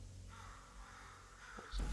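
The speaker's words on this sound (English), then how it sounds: "I honestly thought those crows were outside of my house." Crows caw inside Portal 2, coming as a few faint, distant calls over steady ambient background noise, with one louder burst near the end.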